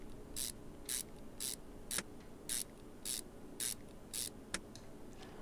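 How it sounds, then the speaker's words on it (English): Bolts are spun in during an engine job in Car Mechanic Simulator 2021, heard as about nine short bright ratcheting bursts at a steady pace with quiet pauses between them. "Let's just spin in the bolts and get it done."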